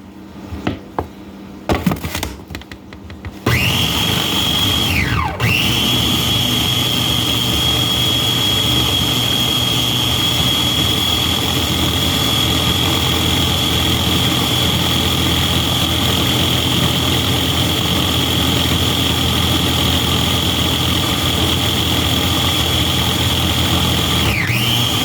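A blender grinds peanuts into peanut butter, a loud steady high motor whine that runs on without a break after a few brief clunks at the start.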